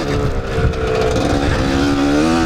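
A two-stroke dirt bike in third gear revs hard and close, the engine note wavering and climbing as it pulls through the gear, loud and continuous with no speech.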